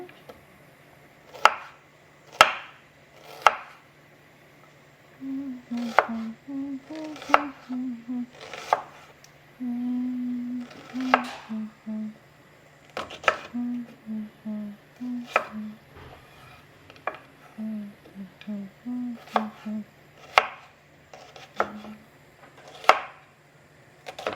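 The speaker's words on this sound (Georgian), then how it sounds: "ჯერ ხახვი დავჭრათ." A knife chops onion on a board in a steady run of sharp, close taps that fall in bursts and pauses, while a low hum holds underneath and some soft sizzling is heard.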